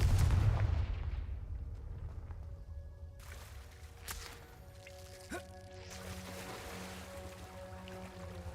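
A Confringo fire spell from Hogwarts Legacy goes off with a sharp blast, then a low rumble that fades into quiet game ambience with faint chimes and soft thuds.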